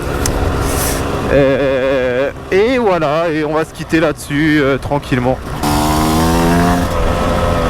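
A Tops Enduro 125cc motorcycle engine revs up and down in loud, close sweeps, its pitch rising and falling repeatedly, with someone speaking briefly over it.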